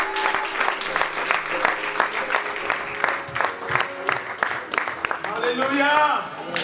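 A church congregation at a praise service claps and cheers loudly, applause rolling steadily under a lively crowd, while a voice calls out over it and rising shouts and whoops swell near the end.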